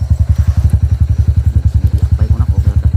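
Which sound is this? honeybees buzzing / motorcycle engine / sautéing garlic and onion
motorcycle engine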